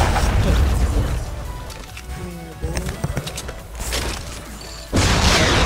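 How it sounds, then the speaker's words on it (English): Guided missile rocket impacts in Fortnite Battle Royale: heavy booming blasts with crashing debris and mechanical clatter, one loud burst at the start and another near the end, with scattered pops in between. "Coming at you with a rocket."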